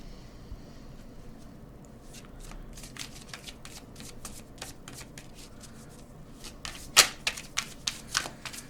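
A Home oracle card deck is shuffled by hand in a quiet room, a run of soft papery riffles and flicks, with a sharper cluster of card snaps near the end.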